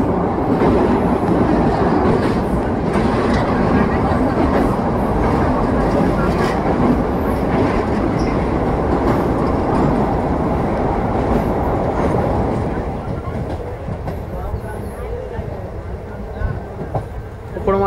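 Onboard the Narasapur–Vijayawada train 17231 at speed, a continuous loud rumble and rattle of the coaches fills the space, easing slightly toward the end as it crosses the Upputeru canal bridge.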